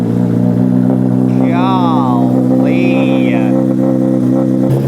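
A Honda CBR600RR with a decat slip-on exhaust rumbles loud and steady at close range, a deep full tone throughout, while someone speaks briefly over it.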